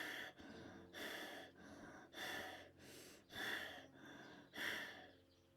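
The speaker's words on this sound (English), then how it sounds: "Now begin breathing like Darth Vader, but fast. It sounds like this." Fast, forceful rhythmic breaths during a Kriya yoga breathing exercise, about seven strong pulses in quick succession, each a hoarse airy rush, close and fairly quiet.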